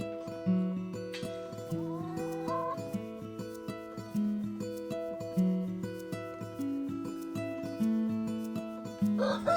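Hens cluck close by in a busy, repeating rhythm of short calls that carries on without a break.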